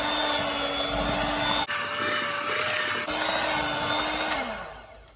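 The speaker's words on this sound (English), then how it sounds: "I'm just going to cut and fold in a circular motion with my hand mixer" A hand mixer whirs steadily through rum cake batter, close and loud, with its motor pitch dipping and rising as it is moved in circles, then winding down at the end; no one speaks.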